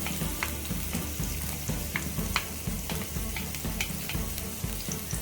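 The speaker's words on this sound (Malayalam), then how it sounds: "എണ്ണ ഒന്ന് ചൂടായി കഴിയുമ്പോൾ നമ്മൾ നേരത്തെ തന്നെ അരിഞ്ഞു വെച്ചേക്കുന്ന സബോള, ഇഞ്ചി, പച്ചമുളകൊക്കെ ഇട്ട് കൊടുക്കാം" Sliced onion, ginger and green chilli fry in hot coconut oil, giving a steady dense sizzle with scattered crackles and soft scraping stirs throughout, close and fairly loud, with no talking.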